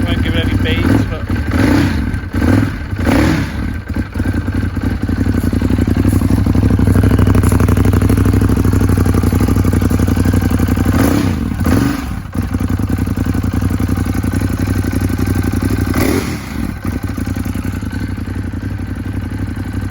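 2015 Ducati Monster 821 motorcycle engine running from stone cold, a loud steady idle with rough mechanical clatter and a few brief blips, heard close up beneath occasional talking.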